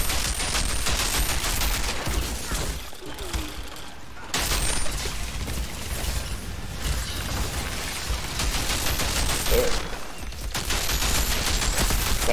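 Sustained, dense gunfire in the looter-shooter game Outriders, a steady, loud stream of rapid shots with brief dips, no voices heard.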